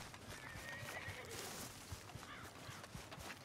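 A horse in the video game Red Dead Redemption 2, with quiet rhythmic hoof clip-clops and a brief whinny over soft game ambience, fairly faint throughout.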